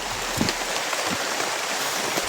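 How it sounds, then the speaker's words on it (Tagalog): Steady rain pours down on a surface outdoors as night approaches, a dense continuous hiss with scattered louder drops, filling the whole stretch with no one talking. "Parang lumalakas yung ulan, mga tolo."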